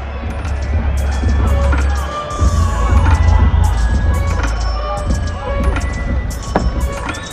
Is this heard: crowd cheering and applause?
yes